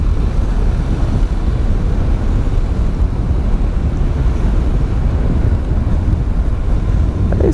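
Heavy, constant wind roar buffets the microphone while riding a motorcycle along a mountain road, a loud unbroken low rumble with no other clear sounds on top.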